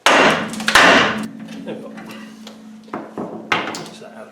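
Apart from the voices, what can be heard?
hammer striking ball joint separator tool on car suspension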